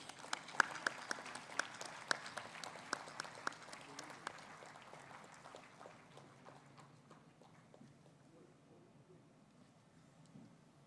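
An audience at a start-up conclave at IIT Bhubaneswar claps for a presenter, moderately loud, scattered applause that thins out and fades over roughly eight seconds.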